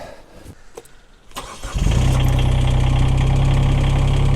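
A Derette V1000 machine's engine cranks and catches after a few quiet clicks, then settles into a loud, steady, close-up idle with an even low drone.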